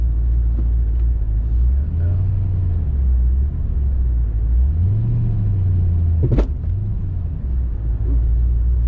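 A car engine runs while driving, a steady loud low rumble throughout with slight rises in pitch and one brief sharp squeak near the end.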